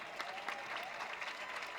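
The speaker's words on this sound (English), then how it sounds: "Give him a chance to applaud, you know" An audience claps for a grandmother at a Citizen of the Year award ceremony, a short, faint, even patter of applause with no voices on top.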